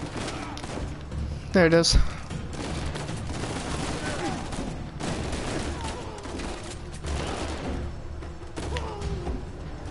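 Gunfire in the video game Uncharted 4, scattered shots and impacts in a busy firefight with a sharp burst near the start, mixed with game action and someone talking.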